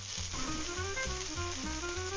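Zucchini and peppers sizzle in a frying pan, a steady close hiss with faint tonal music running underneath and no talking.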